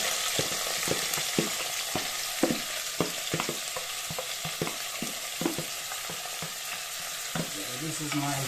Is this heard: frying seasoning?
yes